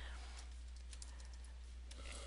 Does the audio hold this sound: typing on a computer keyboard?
yes